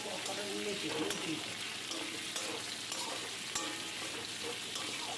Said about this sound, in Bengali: আলুগুলো ভালো করে আবার নেড়ে চেড়ে নিচ্ছি, একটু ভাজা ভাজা মতো আর কি করতে হবে।